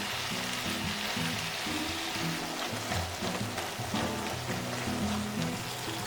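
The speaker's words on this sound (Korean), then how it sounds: "고구마 줄기, 양파, 대파 넣고 골고루 섞어주면서 숨을 죽였다" Sweet potato stems, onion and green onion stir-fry in a pan for a spicy Korean soup, with a continuous close sizzle and crackle, faint stirring and soft background music underneath.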